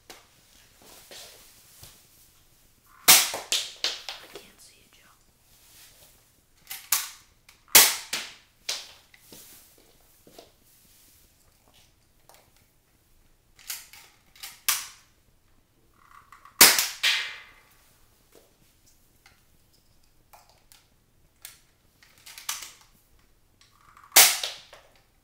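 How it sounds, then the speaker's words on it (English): A modified Night Finder toy gun fires at a barrel outdoors, a series of sharp, snappy cracks spaced several seconds apart, each with a brief tail, with near silence in between. "I'm going to be shooting that barrel right there."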